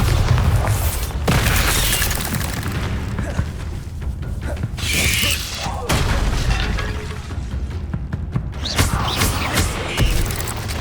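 Bombarda spell blast in the video game Hogwarts Legacy, loud booming explosions with crashing debris and clattering mechanisms amid continuous combat noise, with a voice shouting over it.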